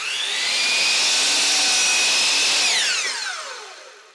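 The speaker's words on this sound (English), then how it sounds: "I'll mark the length I want and make the cut on the miter saw." A miter saw cuts through a 1x3 wooden board: a loud, steady motor whine that holds for about three seconds, then spins down and fades as the blade slows.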